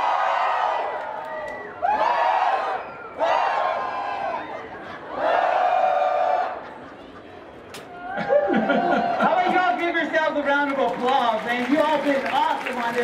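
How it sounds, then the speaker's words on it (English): A rodeo crowd at Lost Dutchman Days yells and cheers in several loud bursts separated by short pauses, then a sustained roar of shouting and whooping. "every time I raise my hand, I want you all to yell and scream and shout"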